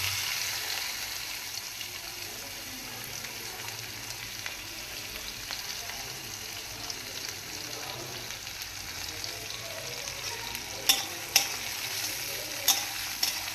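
Chopped onion frying in a pan with whole cumin and two small dried red chillies, a steady broadband sizzle under occasional stirring, with a few sharp scrapes or clinks near the end.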